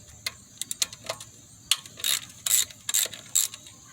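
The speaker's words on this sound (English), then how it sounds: "The next thing we're going to do is remove all these screws, 10mm screws all around it" A ratchet backs out the 10mm valve cover screws on a 2006 Kia Spectra, giving close, crisp bursts of rapid clicking and scattered metallic ticks with short pauses between them.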